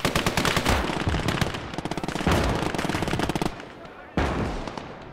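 Rapid machine gun bursts rattle in the World War II video game Call to Arms: Gates of Hell, Soviet skirmish at Seelow Heights, loud and dense with several overlapping weapons and a sharp blast near the end.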